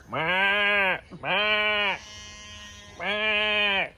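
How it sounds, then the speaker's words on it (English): Sheep in a pen bleat loudly and close by, three long wavering calls with short gaps between them and a softer hum of background noise during the pause. "the most annoying noise in the world, now that the sheep are in this pen instead of that back pen, is back"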